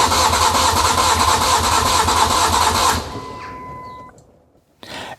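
A Ford Mondeo Mk3 engine cranks steadily on the starter during a compression test, a loud, even churning that cuts off abruptly. A thin whine lingers faintly before a brief clunk.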